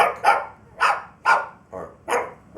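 A voice actor imitates a dog barking: five sharp, evenly spaced barks in quick succession, close and loud, with no other sound around them.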